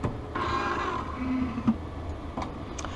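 A lens edger grinds a prescription sunglass lens for a Versace 4265 frame, giving a steady moderate mechanical whir with faint clicks, close and continuous.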